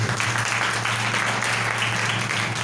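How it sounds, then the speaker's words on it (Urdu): A church congregation breaks into loud, continuous applause during a sermon on God's grace, a steady wash of clapping over a low hum. "زوردار تالیاں خدا کے فضل"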